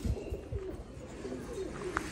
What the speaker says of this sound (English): I think they're cooing.